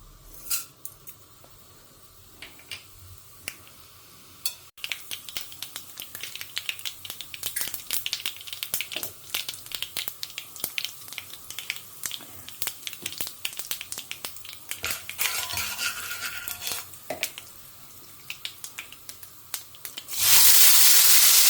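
Baby brinjal being sautéed in a pan, a continuous faint sizzle with many sharp crackles and pops that thicken midway and grow loud at the very end, with no voices.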